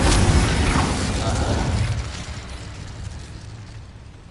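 A fire spell, Incendio, cast in Hogwarts Legacy on PS5: a loud whooshing burst at the start that rumbles and crackles, then slowly fades over a few seconds, with no talk over it.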